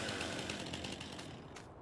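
A chainsaw in Farming Simulator 19 buzzes harshly through wood, a near, rough, continuous rattle that cuts off abruptly near the end.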